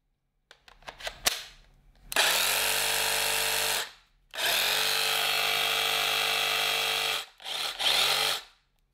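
Cordless power tool fitted with a custom Milwaukee battery: a few quick clicks and short bursts, then two long steady whirring runs of a couple of seconds each and a brief final burst, close and loud with no voices.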